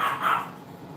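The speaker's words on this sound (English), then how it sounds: "Oh, little dog." A small dog lets out a quick, high yap close by in a workshop. It is a single short bark that fades fast.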